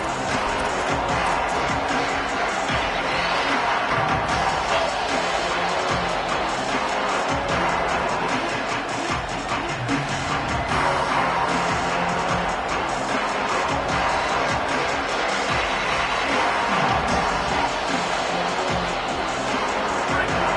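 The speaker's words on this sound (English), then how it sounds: "This crowd bringing the energy and noise early." Loud, steady stadium crowd roar in a college football video game fills the whole stretch, a constant wall of cheering and chatter with a commentator's voice faintly running beneath it.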